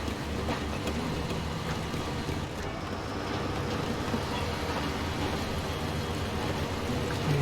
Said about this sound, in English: I like the sound of the BM17 a lot.